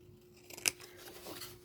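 A single crisp scissors snip through paper while making a small gift box, close and fairly quiet, with a soft rustle around it and no talking.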